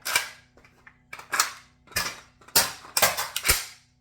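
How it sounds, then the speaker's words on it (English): Metallic clacks and rattles of an AK rifle reload, with the charging handle pulled back and released and a fresh magazine seated, sounding as a string of sharp, close clicks and knocks with short pauses between. "I'm going to pull this back, I'm going to let it fall, I'm going to put a new mag in."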